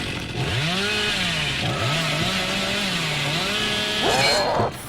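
Hillbilly's chainsaw in the game Dead by Daylight revs loudly and steadily, its engine pitch rising and falling in sweeping arcs before a final sharp surge near the end, heard alone.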